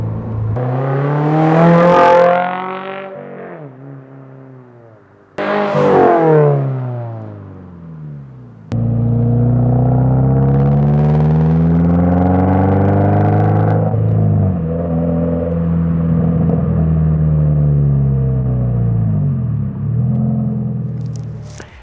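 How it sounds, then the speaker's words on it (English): AWE Track Edition exhaust on a 2023 Subaru BRZ, loud close revs climbing and falling, a pause, then another sharp rev and a long sustained drone as the car accelerates, with no talk. "I'm actually very impressed with the overall sound of this exhaust for being in a track configuration"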